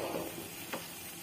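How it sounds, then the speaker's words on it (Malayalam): Semolina (rava) for upma fries in a pan and is turned over. A soft continuous sizzle carries one brief scraping flip near the middle, close and quiet with no talking. "ഈ നമ്മളിട്ട റവ നേരെ മറിച്ചിട്ട് കൊടുക്കുക"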